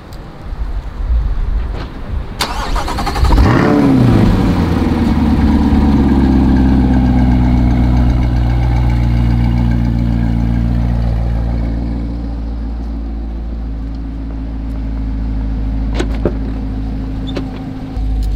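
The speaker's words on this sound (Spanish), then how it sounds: "¿Quieres escuchar cómo se escucha este carro?" A car engine starts and settles into a loud, steady idle, its low rumble holding for a long stretch with slight variations.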